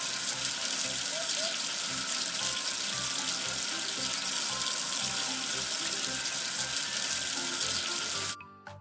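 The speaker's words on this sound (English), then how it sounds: "Wash away the soap with water." Water runs steadily from a tap as soap is washed away: a dense, even splashing rush that lasts about eight seconds and then cuts off abruptly.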